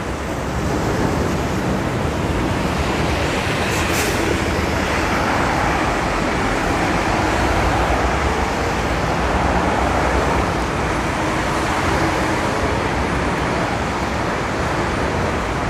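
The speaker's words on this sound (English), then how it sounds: "Looks like the traffic is continuing to flow on 5th Ave." Steady road traffic flowing along 5th Avenue in Midtown Manhattan, New York, a continuous broadband roar of passing cars on wet pavement after rain, with wind buffeting the microphone throughout and no talking.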